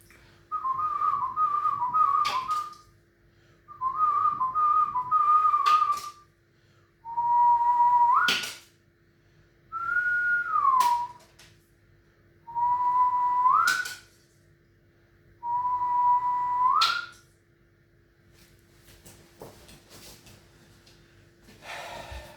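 Someone whistles six short phrases separated by pauses, the first two warbling trills, the rest sliding single notes, clear and close.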